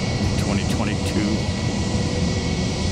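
Mosquito-spraying aircraft passing overhead, a broad droning roar that holds steady over a few seconds, with brief chirping bird calls above it.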